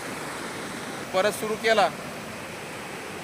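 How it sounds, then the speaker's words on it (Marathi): A waterfall at Vyaghreshwar temple in Pen, water plunging from a cliff edge into a valley, heard as a steady broad rushing hiss at a distance, with a brief spoken phrase over it. "तिथून पाण्याचा झोत खाली दरीमध्ये कोसळतो"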